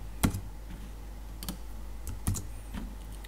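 Sparse, near clicks of a computer keyboard being typed on, a few separate keystrokes spread irregularly over a few seconds, fairly quiet and alone with no voices.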